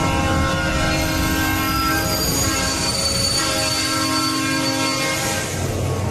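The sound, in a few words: subway train rushing in, ride queue jump-scare effect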